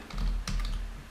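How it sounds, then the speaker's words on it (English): Quick, soft keystrokes on a computer keyboard while writing HTML code, a brief run of close, light clicks and taps over a quiet low background hum. "Normally I will just type everything by hand."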